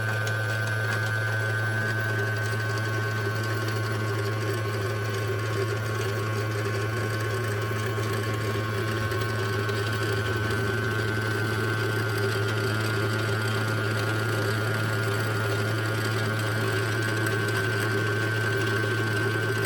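A sewing machine runs continuously while winding the bobbin, giving a steady, even motor hum with a constant whirring tone, close and unbroken, with no talking.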